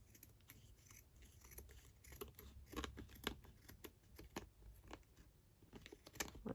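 Scissors snip across the top of a paper craft page in a quiet room, a string of small crisp cuts close by.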